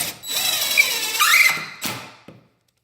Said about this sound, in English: a hole all the way through into the 2x4 that makes for easy driving of a 3-inch screw